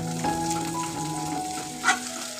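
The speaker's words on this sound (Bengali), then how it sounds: "রসুন ভালো করে ভেজে, এই দেখুন আমি ফ্লেমটা কমিয়ে নিলাম।" Garlic frying in a pan over a lowered flame gives a steady, close sizzle with faint crackles and a brief stirring scrape near the end.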